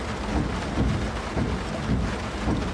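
Dense, steady rain drums on a car roof in a rally video game, a loud continuous wash of patter with low rumbling underneath and no voices.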